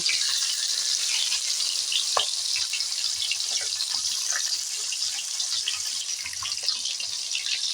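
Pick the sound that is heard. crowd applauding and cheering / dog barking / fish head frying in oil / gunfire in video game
fish head frying in oil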